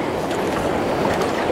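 A kayak paddles through choppy waves in the wind, with a continuous rushing wash of water and splashing close by.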